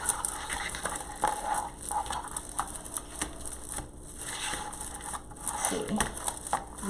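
Dry grapevine wreath twigs crackle and crinkle continuously as the vines are unwound and pulled loose, close and busy, with a voice speaking at times.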